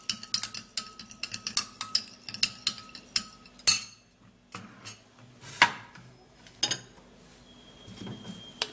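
A spoon stirring papaya seed juice in a small container, a series of quick metallic clinks and taps against the vessel, close up, with brief pauses between bursts.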